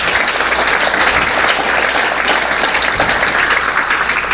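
Sustained applause from a church congregation during a Spanish-language preaching service, a dense, loud wash of clapping that holds steady across the whole stretch without talk.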